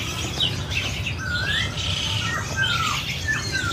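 A small blue-violet songbird held in a person's hand sings short bright chirps and rising whistled notes over a constant low background rumble, a handful of calls scattered across a few seconds.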